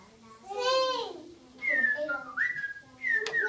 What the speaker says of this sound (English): Whistle. What is this?